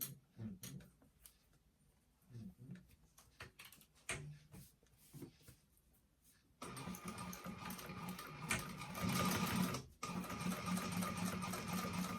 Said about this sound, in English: we are going to top stitch along the lining side right here to hold that zipper and that seam in